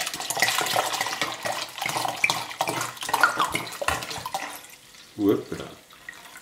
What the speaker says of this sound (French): je vais prendre 70 cl